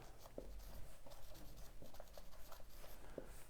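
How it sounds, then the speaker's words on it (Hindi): Pen strokes scratching on paper or a board during a trigonometry lesson on the law of cosines, a run of short rhythmic marks repeating steadily, close and fairly quiet, with no talk. "यहाँ पे मैं लिखता हूँ"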